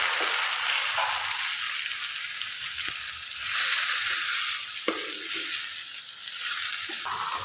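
Tomatoes and onions frying in a pan, a steady bright sizzle with occasional stirring scrapes and soft shifts in intensity, close and continuous without talk.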